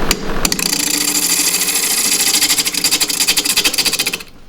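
A 9/16 shallow spindle gouge cuts dry wood on a lathe while turning a bark-rim bowl, giving a loud, steady rasping hiss over the spinning lathe, pulsing rhythmically near the end before easing off.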